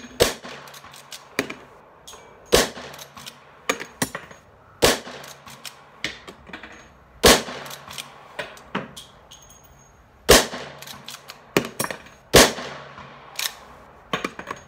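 Rossi Model 92 lever-action rifle in .357 Magnum fired offhand at 50 yards on a range, with about seven loud, sharp shots spread irregularly among quieter metallic clicks and clatter of the lever action.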